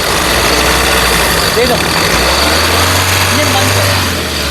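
A Tata Nexon XZ Plus from 2017 runs at a smooth, steady idle close by, its low engine drone carrying on throughout while someone speaks over it.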